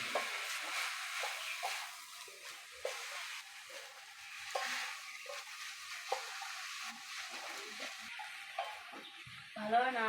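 Banana flower curry (mochar ghonto) being stirred in a pan, soft scraping and light sizzling strokes repeating steadily at low volume with faint background hiss.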